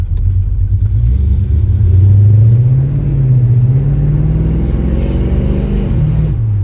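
A 1955 Chevrolet Bel Air with a 468 cubic inch engine and 700R transmission pulls hard in second gear, its deep rumbling exhaust rising steadily in pitch, loud and close throughout with no talk.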